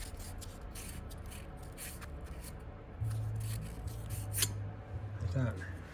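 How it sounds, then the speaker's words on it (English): Fine 400-grit sandpaper rubs back and forth against a valve guide from a DZ 302 cylinder head, a soft close scratchy rasping that carries on steadily under a low background hum. "It's just 400 sandpaper, so and just go back and forth."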